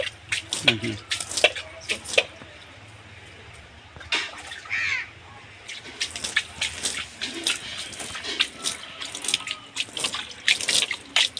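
Water from a pipe splashing onto soil beds of newly sown coriander seedlings, irregular bursts of spatter and trickle outdoors with a steady background hum and occasional distant birds.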